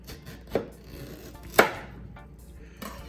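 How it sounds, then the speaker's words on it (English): A knife slicing a plantain in half on a cutting board, two distinct thuds of the blade hitting the board about a second apart, then a softer tap, close and quiet with no talking. "I'm going to cut this plantain in half so that it's more manageable."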